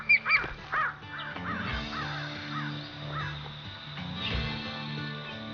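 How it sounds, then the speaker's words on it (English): A crow caws several times near an osprey nest in a swamp of the Atchafalaya Basin, sharp repeated calls up close at first, then softer, rougher caws over a low drone. "Brash and bold, a crow makes a hopeful approach."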